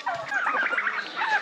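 Turkeys on a Jamaican farm give a loud, close burst of warbling, rapid gobbling calls that overlap in a brief chorus.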